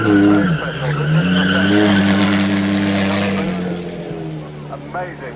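Flat-six sports car at the Goodwood Festival of Speed, its engine droning loud and close with a sustained tone that rises and sags, tyres squealing, fading slightly toward the end.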